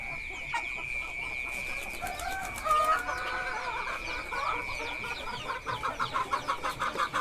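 KUB chickens cluck on a chicken farm, a steady chorus of close clucking and chattering over a high constant background hum, rising into rhythmic repeated clucks near the end.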